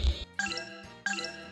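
A bell rings twice in the video game Grandia II, bright tinkling chimes with a short pause between strikes, clear and alone without talk.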